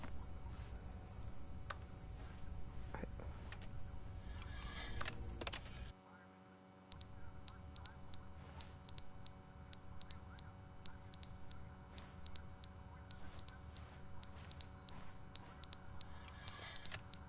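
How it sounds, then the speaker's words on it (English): A smoke alarm in the video game The Stanley Parable chirps in a steady series of short, high, evenly spaced beeps after a stretch of muffled background noise and brief clatter. "it's a smoke alarm, so that's great"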